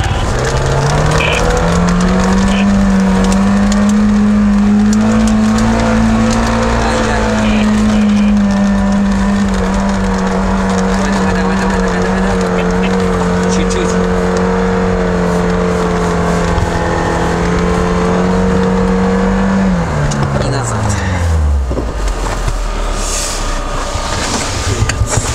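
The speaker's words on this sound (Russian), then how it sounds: "высокие обороты, почти 6000 на второй пониженный" An off-road SUV climbing a hill in low-range second gear, its engine held at a loud, strained high-rpm whine for a long stretch before the revs drop sharply and it falls back to a lower rumble.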